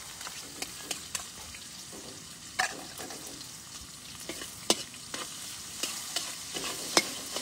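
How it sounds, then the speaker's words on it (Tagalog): A giant crab cooks over an open fire in a forest, with a steady sizzle and frying hiss under irregular sharp clicks and scrapes of stirring, close and alone without voices. "Lutuin natin yung giant crab mga idol."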